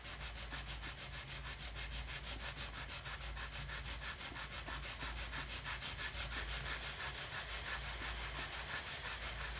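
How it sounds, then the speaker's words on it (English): Sandpaper rubs against a guitar saddle in quick, even back-and-forth strokes, a close, steady rasping that carries on without pause and with no voices. "you use a sandpaper and you sand down until you don't see the mark"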